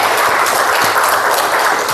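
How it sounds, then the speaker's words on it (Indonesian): Applause for students Robert and Aidil in a classroom, a dense, even wash of many hands clapping at once, loud and close, sustained for the full moment without a break. "Tepuk tangan untuk Robert dan Aidil"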